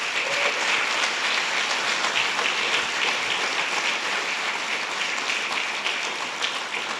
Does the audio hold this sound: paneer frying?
no